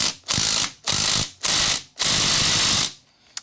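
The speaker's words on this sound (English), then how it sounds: "This one's gonna crank down right here, 9/16 up front. I just wanna snug all of these up" Ratchet wrench snugging steel bolts on an Evo Sportster chopper's primary cover, four quick runs of dense clicking separated by short pauses, close and loud with no talk.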